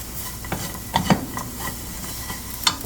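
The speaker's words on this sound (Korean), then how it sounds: "렌즈 앞에서 떠나지 마시고 계속 반복해서 잘 저어주세요" Anchovies and nuts sizzle softly in a frying pan while a utensil stirs and scrapes, with a few light clinks scattered through.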